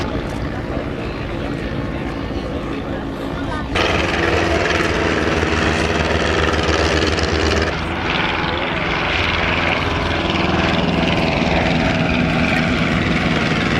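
SE-5A biplanes fly in a Great War air display, their propeller engines producing a loud, continuous droning roar that swells and shifts as they pass, with a commentator talking over it.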